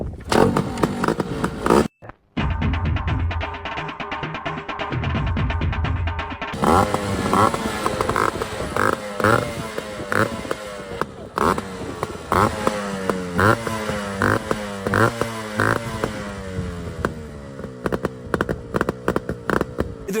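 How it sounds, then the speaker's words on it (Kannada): A Yamaha RXZ two-stroke motorcycle fires on one kick after stock maintenance, a brief thump then a busy rapid engine idle with repeated blips and revs, close and loud for about eighteen seconds. "ಒಂದೇ ಕಿಕ್ಕಿಗೆ ನಮ್ಮ ಬೈಕ್ ಚಲೋ ಆಕತಿ, ನೋಡ್ಬೋದು."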